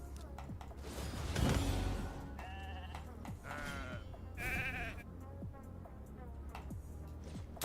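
Video game sheep bleating in several short wavering calls spaced across the stretch, mixed with scattered game effects and a low background hum.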